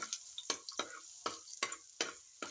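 Sardines fry in a pan with ginger, giving a steady close sizzle broken by a handful of sharp scraping stirs at an even, unhurried pace.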